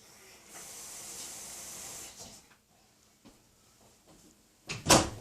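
A few quick hissing spray bursts wetting a fresh drywall patch over a missing stud, the loudest one near the end, alongside faint clattering.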